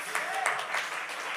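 Audience applause at a political talk, a moderate steady patter of many hands clapping, somewhat distant, with a voice briefly audible over it.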